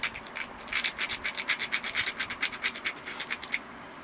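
A knapped stone slab edge is ground down to remove saw marks in a run of about twenty quick, rhythmic scraping rubs, close and fairly loud.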